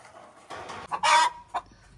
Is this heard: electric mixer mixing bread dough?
no